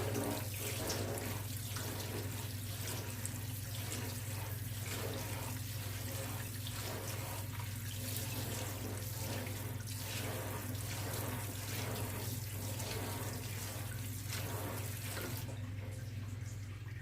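Tap water runs over vegetables being rinsed in a strainer under cold water, a steady nearby splash with faint clatter throughout and no talk.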